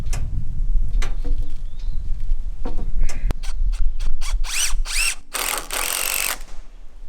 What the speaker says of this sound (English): I'm gonna put a screw down.